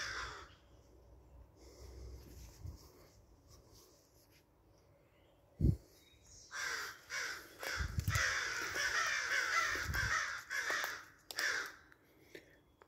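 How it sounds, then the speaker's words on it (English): Several crows caw loudly and repeatedly outdoors at an old home, harsh overlapping calls filling the second half after quieter rustling and a sharp thump. "Hey, crows, it's okay. It's just me."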